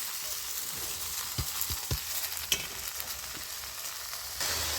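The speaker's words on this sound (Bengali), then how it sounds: "এবার আমি ভালো করে নাড়াচাড়া করে দিচ্ছি, সবজির সঙ্গে মিশিয়ে দিচ্ছি ভালোভাবে" Drumstick flowers being stirred into partly cooked vegetables in a pan for a vegetarian chorchori, a soft steady hiss of frying with several light spatula knocks and scrapes, fairly quiet and without speech.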